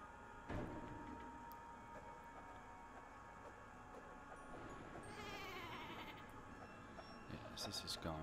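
Cartoonish sheep in the video game Flockers bleat faintly amid soft game music and a low background hum, with a few brief bleats rising over a voice talking throughout.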